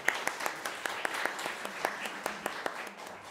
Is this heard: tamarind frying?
no